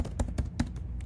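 Fingers type on a computer keyboard with quick, close keystrokes at a steady rhythm over low background noise.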